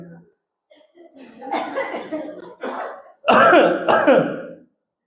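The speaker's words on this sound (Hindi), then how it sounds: "कैसे खांसते हो, दिखाओ जरा खांस के" People cough and clear their throats on request, a few scattered short bursts. They end in two loud, close coughs with some chuckling mixed in.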